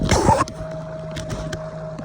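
A homemade DIY motor pushes a fishing kayak across the open ocean, starting with a loud burst of wind and water rush, then settling into a steady hum with a faint constant tone and light splashes.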